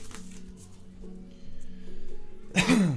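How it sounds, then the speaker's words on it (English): A sharp, loud sneeze or cough bursts out at the end after a few seconds of quiet rustling and faint background hum. "Sorry about all the sneezing and coughing throughout this video."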